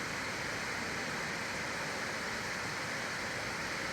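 Nachi Falls in Japan, seen outside the rainy season with reduced flow, gives a steady, even rush of falling water, a constant broadband roar with no other sounds standing out.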